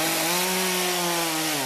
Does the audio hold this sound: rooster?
no